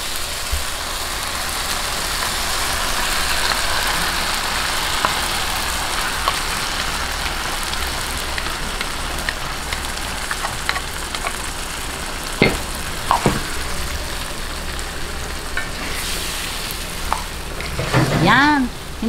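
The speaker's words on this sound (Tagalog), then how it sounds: "hintayin lang po natin siyang magisa-gisa at lumabas yung sarili niyang liquid" Beef pieces sauté in a pan with fish sauce for a Filipino mechado-style stew, giving a continuous dense sizzle with occasional clinks of a utensil stirring near the end.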